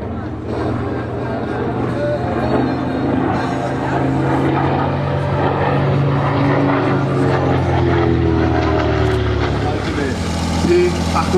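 World War II bomber warbird with twin 1,700 hp Wright R-2600 Cyclone radial engines flying over an air show at Hahnweide, a steady loud drone throughout with a German commentator talking over it.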